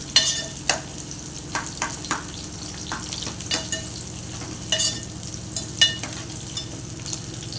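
Onion frying in a pan and being stirred repeatedly, a steady close sizzle broken by regular scraping and clinking strokes of a spatula, with no talk.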